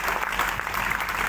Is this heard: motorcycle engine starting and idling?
no